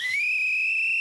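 A single shrill whistle blast, loud and sustained for about a second with a slight upward pitch slide at the start, sounding alone without talk.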